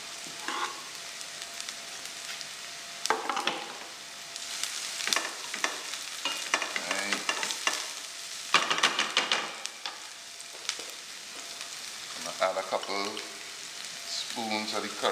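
Pigeon peas stirred and parched in a pot with garlic and pimento, a steady sizzle and frying hiss with scraping stirs, close and fairly loud, with a voice talking at times over it.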